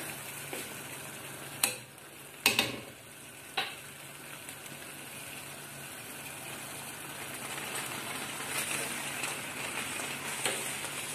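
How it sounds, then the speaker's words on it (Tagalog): Boiled noodles for palabok go into a hot pan and are stirred, with a steady sizzle underneath and a few sharp clatters of the utensil against the pan early on, then softer scraping. "So, ito natin ilalagay yung noodle."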